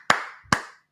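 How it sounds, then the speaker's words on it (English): Three sharp, separate hand claps ring out at a live call-in Q&A, loud and close with short gaps between them. "let's clap it up for Marina."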